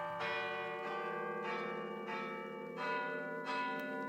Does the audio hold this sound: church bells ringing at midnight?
yes